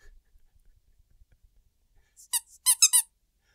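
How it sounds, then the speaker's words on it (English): A rubber duck toy squeaks in a burst of three or four sharp, high, nasal squeaks after a few soft handling taps and clicks in near silence. "a squeaky duck"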